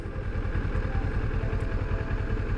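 A Kawasaki Ninja 650 motorcycle engine runs steadily up close in first gear, a continuous low, even throbbing with a light mechanical clatter and no revving.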